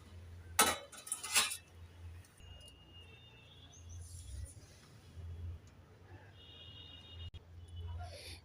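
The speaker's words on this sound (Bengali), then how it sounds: "এবার প্লেটের মধ্যে পরিবেশন করে দেখাচ্ছি" Khoira fish curry is served onto a plate with two quick metallic clinks of a utensil against dishware. A long, faint, quiet stretch follows with light background noise.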